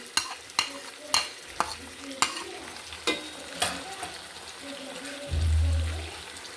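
Garlic paste being added to beef frying for pulao, with a steady sizzle, sharp periodic scraping and stirring clicks about every half second, and a low rumbling whoosh near the end.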